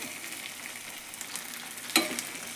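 Onions and spices frying in oil in a pan while preparing a green gram gravy, a steady, fairly quiet sizzle close by with one sharp clink of a utensil near the end.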